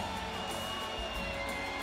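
Crowd at the Olympic Aquatic Stadium during a Rio 2016 Paralympic swimming medal ceremony, a dense continuous roar of cheering and whoops filling the arena, loud and unbroken.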